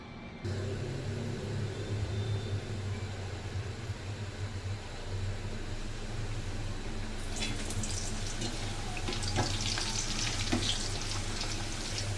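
Puris fry in hot oil with a steady, close sizzle and bubbling that grows crackly and busier partway through, over a low background hum.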